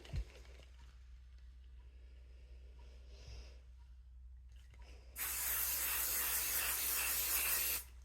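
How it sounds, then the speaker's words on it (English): After a few seconds of quiet background hum, a spray bottle nozzle releases a steady, loud hissing mist of water onto water-soluble stabilizer that lasts about two and a half seconds. "take your spray and spray the whole thing from top to bottom"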